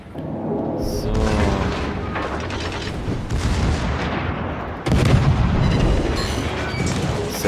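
Warship main guns in the naval video game World of Warships boom in repeated heavy blasts with rumbling tails, the last one sharper and louder, while someone talks over the gunfire.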